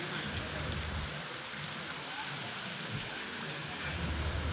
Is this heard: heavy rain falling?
yes